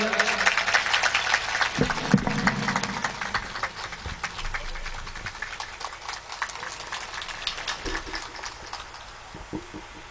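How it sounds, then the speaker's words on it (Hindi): Audience applause at a Shrimad Bhagwat Katha, a Hindu religious gathering in Hirawadi village: dense, steady clapping from a large crowd, loudest at the start and continuing at a slightly lower level throughout. "उनके लिए भी जोरदार तालियां भैया"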